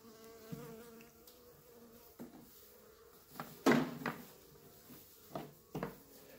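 Honey bees buzzing around a hive during a queen inspection, a faint continuous hum under scattered knocks and wooden frame clunks, close by.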